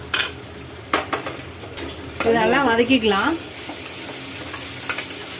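Broad beans and vegetables sizzle and hiss in a hot pan while being stirred, with a brief clink of a utensil and a short burst of voice in the middle.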